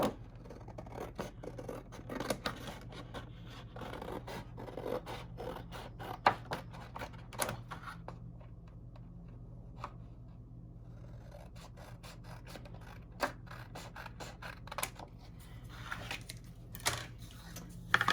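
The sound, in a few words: cutting paper with scissors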